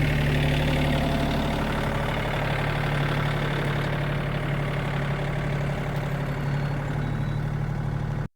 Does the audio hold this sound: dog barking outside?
no